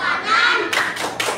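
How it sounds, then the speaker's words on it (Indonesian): Elementary school class clapping a salute for a classmate: a burst of many hands clapping, loud and close, with a few sharper rhythmic claps toward the end and children's voices mixed in. "Kita tepuk salut buat Naila Rahman."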